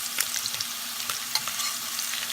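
Slices of Spam frying in a pan beside cooking onions as they are turned over, a steady close sizzle with a few sharper spatters and scrapes, no voices.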